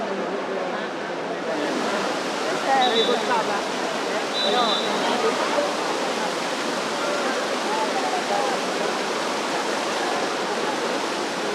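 Rushing water of the Trevi Fountain in Rome, a steady broad splashing roar filling the scene throughout, with faint crowd murmur and a few distant voices beneath it.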